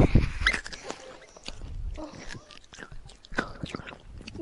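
A person chews noisily up close, with wet, crunchy mouth sounds repeating in an irregular rhythm and some low voice and breathing mixed in.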